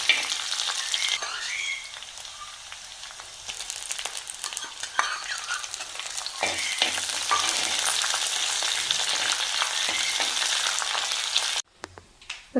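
Dried red chillies and curry leaves crackle and spit in hot oil with onion, a steady close sizzle broken by scraping stirs, dropping out abruptly near the end.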